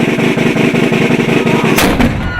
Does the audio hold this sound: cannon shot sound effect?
yes